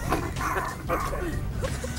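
A contestant on a game show imitates a dog barking, giving a run of short yappy bark-like calls close to the microphone over steady room noise and studio murmur.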